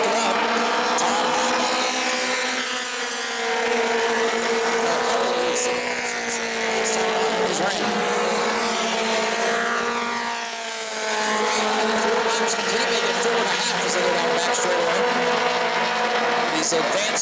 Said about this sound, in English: These advanced 4-cylinder cars that scream down these straightaways. Very, very loud.